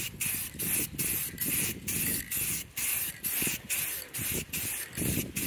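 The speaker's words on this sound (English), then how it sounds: "This brand of spray paint I've been having lots of issues with lately" Repeated bursts of spray paint hissing from a can, about a dozen short sprays in a steady rhythm, close and loud, no voices.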